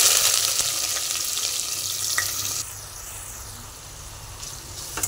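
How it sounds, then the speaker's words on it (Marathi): Onions fry in a hot pan after whole spices for a mixed vegetable pulao, giving a loud, close, continuous sizzle that drops a little partway through and then carries on steadily, with no talking. "तर कांदा भाजून घ्यायचा आहे।"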